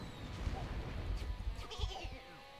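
Sheep bleat in the video game Kiwi 64, inside a single-screen arena where the sheep carry rocket launchers; several short wavering bleats come through near the end over a busy, rocking game-music bed.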